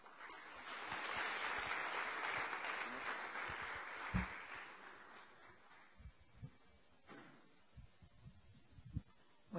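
A symposium audience applauds a panel introduction, a dense wash of clapping for about four seconds that then thins into a few scattered, fading claps.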